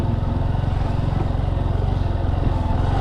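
A Bajaj Boxer BM150 motorcycle rides along forest trails, its single-cylinder engine chugging steadily and close in an even, continuous drone.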